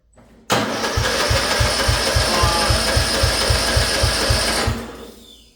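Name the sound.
mud mower engine cranking, trying to start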